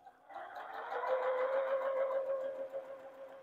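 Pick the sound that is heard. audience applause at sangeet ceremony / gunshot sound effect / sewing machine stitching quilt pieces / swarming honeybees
sewing machine stitching quilt pieces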